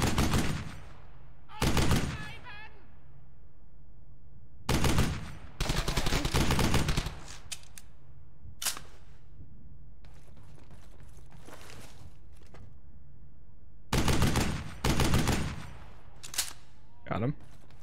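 Gunfire in the WWII shooter Brothers in Arms: Hell's Highway: loud, separate bursts of rifle and automatic fire, each a second or so long, broken by quiet gaps of several seconds.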